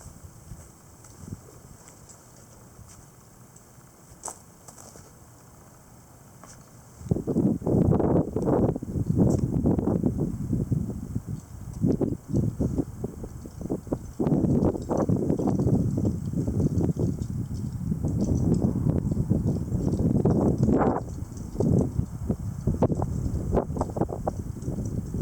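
Strong gusty wind during a long-lasting dusty spring wind storm, quiet at first and then a sudden loud, sustained roar with buffeting bursts that rise and fall for the rest of the stretch.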